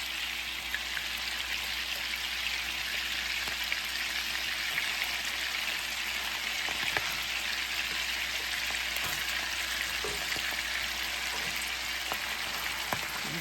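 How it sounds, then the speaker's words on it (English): Chicken patties fry in butter in a hot skillet, giving a steady, dense sizzle and crackle that holds evenly throughout with faint occasional pops. "it's frying off some of the butter fat out of that half stick of butter that I put in it"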